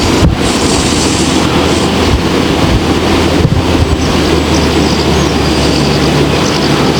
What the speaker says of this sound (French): Oh, ça y est, le vent qui se lève.